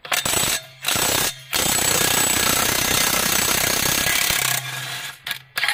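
An impact wrench with a 32 mm socket hammers loudly and continuously at a nut on a farm, a short burst then a long sustained rattling run, cutting out before a few final brief bursts.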